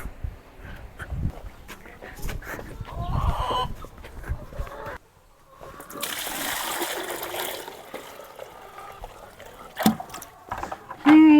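Hens on a farm cluck and squawk close by during egg collection, in irregular bursts, with splashing and rustling noises in between and a stretch of louder scuffling in the middle.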